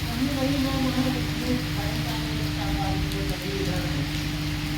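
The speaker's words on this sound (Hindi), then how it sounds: "काफ़ी खतरनाक बारिश हो रही है" Heavy July rain pours down steadily in large drops, a dense continuous hiss with no pauses throughout.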